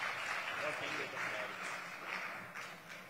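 Faint, diffuse applause from an audience at an Independence Day poetry gathering, a continuous wash of clapping heard from a distance.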